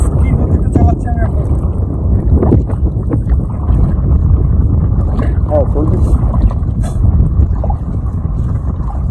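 Wind buffets the microphone aboard a small dugout boat on a clear-water wetland: a loud, constant low roar fills the whole stretch, with brief voices faintly audible beneath it.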